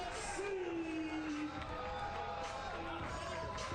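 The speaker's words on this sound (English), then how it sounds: "crowd delighted by that" A stadium crowd roars and cheers after a goal in a Lexington SC versus DC Power FC women's soccer match, a steady, dense wall of cheering with scattered whoops and a whistle-like tone.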